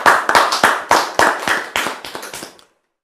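Rhythmic hand clapping from a worshipping congregation acclaiming the Lord, about ten sharp claps in a steady beat that stop abruptly near the end.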